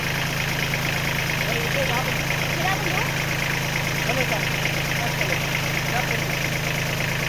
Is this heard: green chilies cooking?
no